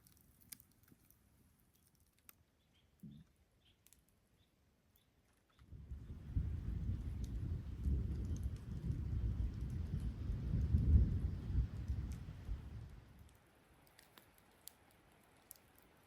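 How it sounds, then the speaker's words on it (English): Rain and thunder at Panther Lake on an autumn evening: near-silence, then a deep rolling rumble swells for several seconds and fades away, with light scattered rain ticks around it. "so the rain was not supposed to start until 10."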